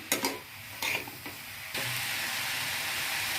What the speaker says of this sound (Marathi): आता याच्यामध्ये मी सिमला मिरची ॲड करणार आहे तरी शिमला मिरची पण मी शालो फ्राय करून घेणार आहे